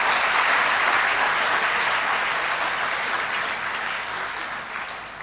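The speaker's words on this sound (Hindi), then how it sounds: "अरे कम से कम निडर होके ताली तो बजाइए ठीक से।" Audience applause during a spiritual discourse hall event: a dense, loud wash of clapping from many people that holds steady, then slowly fades toward the end, with no speech over it.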